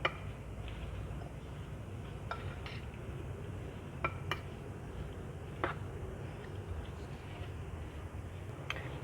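Spiced guava chaat tossed in a bowl, faint scraping with a few light clinks of a spoon against the dish, close and quiet.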